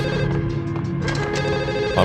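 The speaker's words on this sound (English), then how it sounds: "let's answer the phone" A telephone rings in the 2001 PS2 game Max Payne, a steady electronic bell tone that holds throughout over low game ambience, with no speech.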